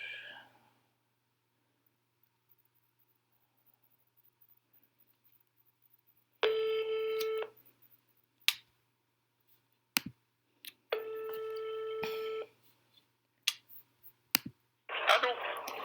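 Repeated ringback tone of an outgoing telephone call, two long bursts of ringing separated by quiet gaps, with clicks and brief breaths or murmurs around them.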